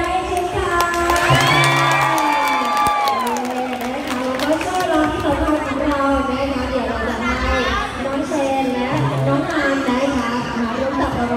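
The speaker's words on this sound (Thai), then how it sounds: "ขอเสียงปรบมือดังๆเช่นกัน" A crowd at a shopping mall cheers and claps amid lively chatter and shouts, with a loud swell early on and continuous hubbub after it. Voices run over the noise throughout.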